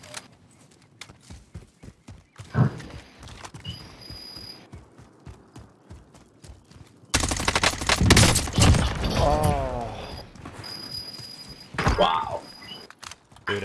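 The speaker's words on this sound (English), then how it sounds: "Oh yeah, he's still shooting." Gunfire from the video game Call of Duty: Warzone: bursts of rapid shots and mechanical clicks, with a louder stretch of firing and commotion in the second half, under occasional faint voices.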